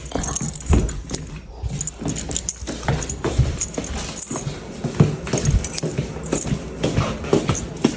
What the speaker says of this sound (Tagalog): So, ibabalik na natin tong susi.